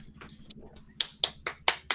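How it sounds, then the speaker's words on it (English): Sharp hand claps ring out one by one, five crisp, evenly spaced strikes close to the listener, with softer scattered taps before them and no voices. "I'll clap for that with my broken hands"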